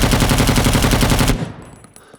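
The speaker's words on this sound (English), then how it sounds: "With the bipod placed down, this weapon is very stable. You can put up some mean fire." A bipod-mounted machine gun in Rising Storm Vietnam fires one loud, sustained automatic burst of rapid, even shots close by. The burst cuts off sharply and leaves a fading echo.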